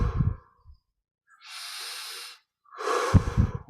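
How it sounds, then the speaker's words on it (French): Deep breathing during a guided meditation: a slow, close inhale followed by a long, audible exhale, then another breath begins, with quiet gaps between. "On va reprendre 10 respirations profondes."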